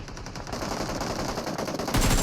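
Rapid bursts of automatic gunfire in the PUBG Mobile battle-royale game, loud and continuous with dense crackling shots, growing heavier near the end.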